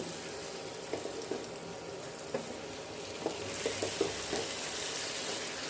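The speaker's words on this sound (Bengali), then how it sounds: "ধনেপাতাটা একটু ভালো করে মিশিয়ে নেব" Chopped coriander leaves are stirred into a bubbling mixed vegetable curry, with a steady sizzle and frying hiss under occasional soft spoon knocks against the pan, close and continuous.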